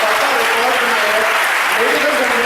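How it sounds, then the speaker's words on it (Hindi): An audience applauds loudly and continuously in a dense wash of clapping, with a voice heard faintly over it. "तालियों की गड़गड़ाहट कुछ ऐसी होनी चाहिए कि पूरब से निकली और आवाज हिंदुस्तान के पश्चिम तक पहुंचनी चाहिए"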